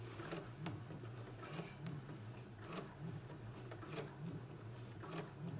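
A sewing machine stitches fabric for a McCall's M8449 garment at low volume, its steady mechanical hum punctuated by regular clicking ticks roughly every half second to second.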